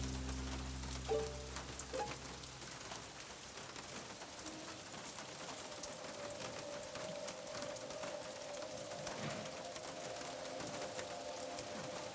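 Steady rain patters and hisses on a surface, with a low engine-like drone fading out early and occasional faint bird calls in the background.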